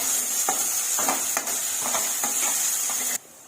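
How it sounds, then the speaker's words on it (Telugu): Ginger garlic paste frying in a pan for a spicy mutton fry, a loud continuous sizzle with rhythmic scraping stirs about every half second, ending abruptly. "ఇది అల్లం వెల్లుల్లి పేస్ట్ కొద్దిగా పచ్చివాసన పోయేదాకా వేపుకుందాం."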